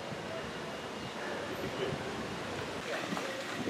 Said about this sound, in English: It's a bit windy, so this might go around a bit.